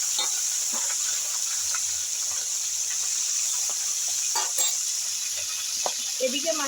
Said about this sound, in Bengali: তেল গরম হয়ে গেছে। আমি এবার মাছের মাথাগুলো ভেজে নেব।